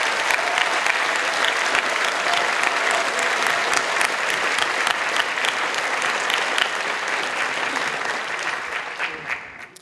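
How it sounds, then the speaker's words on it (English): Sustained, dense applause from a large crowd at a socialist political rally, steady and loud throughout, tapering off slightly at the very end. "we should give them another round of applause."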